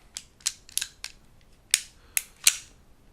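Sharp metallic clicks and clacks of a Sig pistol slide being fitted back onto its frame, about seven distinct snaps in an uneven rhythm, close and clear with no talking.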